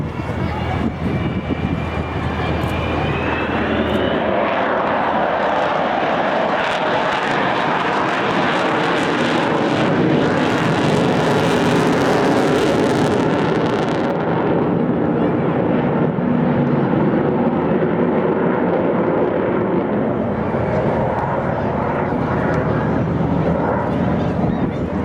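An Avro Vulcan XH558 jet bomber roars overhead in a long, loud fly past at Clacton Airshow, the engine noise swelling and then fading, with a crowd faintly audible beneath.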